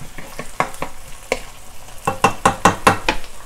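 Onions stir-fried in a hot pan for bitter melon and beef, with a loud, close sizzle broken by rapid rhythmic scraping and tossing strokes that grow stronger toward the end, with no voices.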